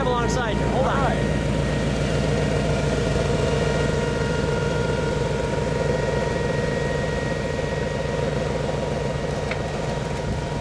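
A 2009 Brimstone Quadracycle engine idles with a steady, loud, throbbing drone close by, while voices may be talking beneath it.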